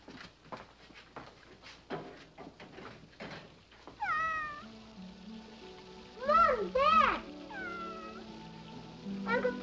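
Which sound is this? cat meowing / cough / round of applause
cat meowing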